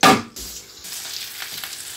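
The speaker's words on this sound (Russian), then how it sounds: "на небольшом огне мы с вами жарим рыбу с 2 сторон до золотистой корочки" Steady close sizzling of battered hake frying in a hot pan over low heat, a loud hiss at the start settling into continuous crackling.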